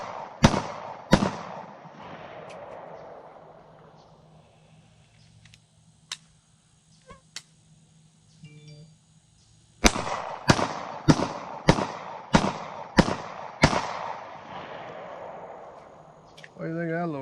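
Glock 43 compact pistol shots at a shooting range: a pair of sharp cracks, a pause with faint distant pops, then a rapid string of six close, loud reports in quick succession.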